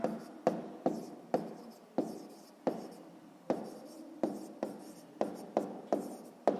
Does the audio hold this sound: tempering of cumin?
no